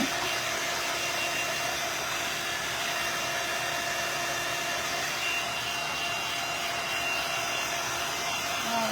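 Hair dryer blowing steadily on a wooden craft kit, a continuous loud whir with a steady hum running the whole time, no pauses and no voices.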